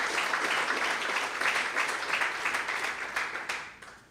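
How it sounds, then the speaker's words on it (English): An audience at a KwaZulu-Natal Growth Coalition workshop gives the coalition's co-chair a round of applause, a dense sustained clapping that fades toward the end. "give the co-chair of the Growth Coalition a big, big round of applause"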